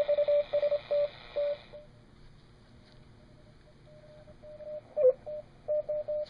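A surplus shortwave radio receiver with no Q multiplier, tuned to a signal: a steady tone keys on and off in short bursts over a hiss of background noise, fading in the middle and then returning.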